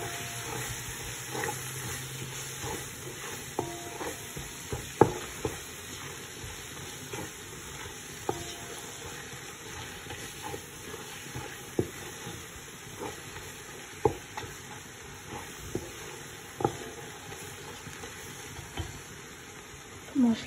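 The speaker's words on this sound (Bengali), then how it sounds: "মশলাটা একটু ভাজা হোক।" Spices, curry powder and green chilies frying in a pan for chicken biryani, a steady soft sizzle broken by scattered clicks of stirring, close and moderately quiet with no talk.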